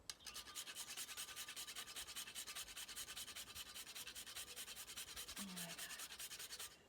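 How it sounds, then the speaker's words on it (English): A whole nutmeg grated by hand for a nutmeg and lemon olive oil cake, making quick, regular, faint rasping strokes that continue steadily throughout. "I'm just going to grind in some nutmeg"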